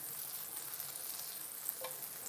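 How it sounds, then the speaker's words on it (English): Unsalted butter melts in a hot pan as a pasta sauce begins, a soft, steady, faint sizzle with one small pop partway through, no voices. "I'm adding some unsalted butter to the pan here"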